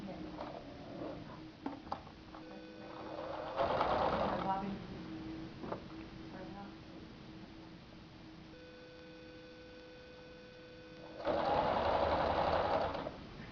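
Sewing machine stitching a quarter-inch seam with the fabric's seams held toward the presser foot, heard in two steady bursts of whirring needle action with a quieter hum and mechanical ticks between them.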